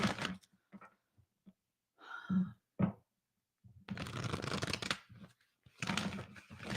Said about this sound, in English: Let me extra shuffle this deck.